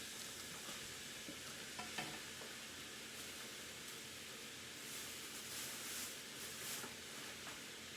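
A spatula stirs ground meat frying in a wok for taco bowls, giving a steady close sizzle with scraping and clacking strokes scattered throughout and no voices.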